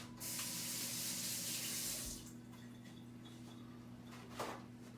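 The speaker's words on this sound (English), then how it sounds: "I'm going to wash my hands again." A kitchen tap gushes strongly into a sink for about two seconds, then drops to a softer, steady trickle for handwashing with a brief splash near the end.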